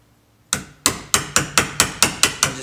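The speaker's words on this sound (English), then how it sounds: "And you're going to use your hammer." Hammer striking a standard wood chisel wedged into the slot of a Mazda CX-7 power window motor housing to crack it apart: eight sharp, close metallic blows in quick, steady succession after a brief quiet start.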